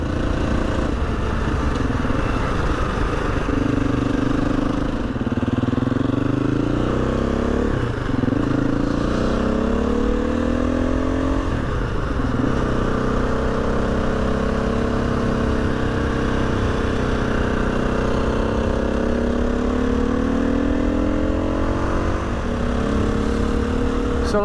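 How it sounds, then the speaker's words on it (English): Husqvarna FE 350 motorcycle pulling uphill in sixth gear, a loud continuous close-up engine drone with shifting pitch as revs rise and fall, plus wind rush, with no talking. "So like even in sixth gear now, it's pulling quite nicely going uphill."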